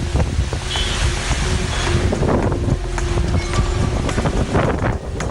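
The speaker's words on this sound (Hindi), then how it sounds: "तकरीबन 70 से 80 किलोमीटर प्रति घंटे के हिसाब से जो है वो तेज हवाएं और आंधी जो है वो चल रही है" Strong storm winds gusting at around 70 to 80 km/h through Delhi during an evening dust storm, a loud continuous roar and buffeting of wind noise with no speech.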